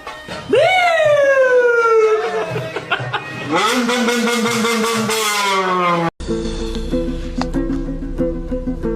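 A person's voice imitates a wailing ambulance siren with rising and falling tones, then shifts into a lower buzzing drone like a revving motor.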